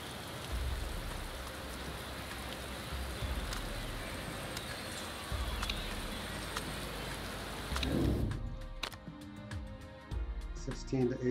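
Steady rain hisses loudly over a low engine rumble in a racing video game, then cuts off abruptly near the end, leaving quieter tones.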